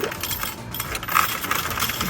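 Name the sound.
nickels dropping into a coin machine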